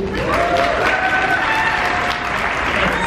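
An audience at a live show in Seattle in 2018 claps from the back row, producing steady, dense applause with no speech over it.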